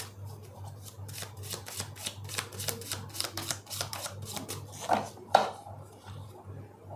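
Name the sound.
shuffling tarot cards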